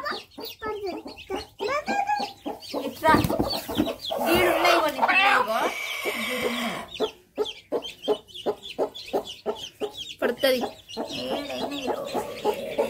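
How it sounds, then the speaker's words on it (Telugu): A flock of chickens clucking and calling busily nearby, with a person talking intermittently over the farmyard sounds. "ఇట్లున్నాయి కోడి పిల్లలు."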